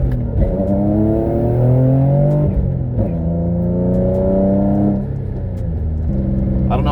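An Infiniti G35 coupe with a six-speed manual, lightweight flywheel, single-piece aluminum driveshaft and 3.69 differential, its engine revving hard in rising pulls while the tires spin, loud and close with a brief voice over it.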